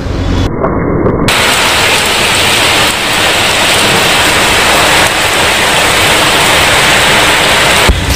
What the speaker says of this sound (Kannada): ನೀವು ಮಳೆ ಬೀಳ್ತಾರ ಸೌಂಡ್ ಕೇಳಿಸ್ಕೊಬೋದು ಎಷ್ಟು ಜೋರಾಗಿ ಸೌಂಡ್ ಕೇಳಿಸ್ತಾ ಇದೆ ಮಳೆದು